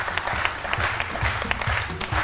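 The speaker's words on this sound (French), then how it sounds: "Je vous demande d'applaudir très fort Ahmed Dosso." Studio audience on a French-language midday television show clapping for an arriving guest, dense sustained applause with a low murmur of voices underneath.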